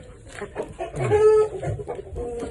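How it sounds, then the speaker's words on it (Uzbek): Young rooster chicks cluck and chirp close by at a poultry market, with one drawn-out call in the middle, amid soft background murmuring. "Yaxshi xo'rozlarni balasi"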